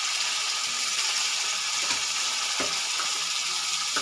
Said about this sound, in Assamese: ইয়াতে এতিয়া আমি ভেদাইলতাখিনি পিচি থোৱা ভেদাইলতাখিনি ইয়াতে দি দিম।